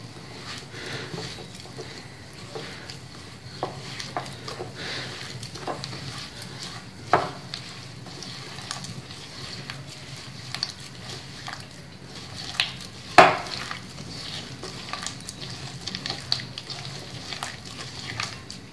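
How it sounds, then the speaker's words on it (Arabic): Butter and sugar are mixed together in a bowl, giving soft, steady scraping and squishing strokes with occasional light clinks against the bowl, close and quiet with no talking. "نضع فيه الزبدة، نضيف عليه السكر، ندمج هاد العناصر مع بعضهم مزيان"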